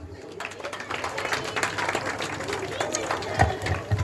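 A crowd at an outdoor May Day festival prize-giving claps steadily in dense, continuous applause, fairly close, lasting the whole stretch with a slight rise toward the end.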